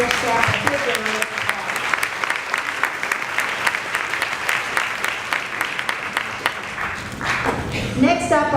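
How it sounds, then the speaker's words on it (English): A school board meeting audience applauds students with perfect scores: steady, dense clapping from a crowd that carries on for several seconds, with voices rising briefly near the end. "Let's give all of those students for pass and HSAP a big round of"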